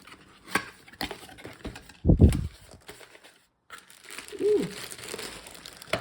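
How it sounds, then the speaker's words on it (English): Plastic packaging around a resin mixer crinkles and crackles in short bursts, with one louder rustle midway and quieter handling noises between. "Let's unwrap my resin mixer."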